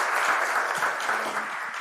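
Audience applause for the mayor at an East Asia pandemic conference, steady and fairly close across the whole stretch with no voices.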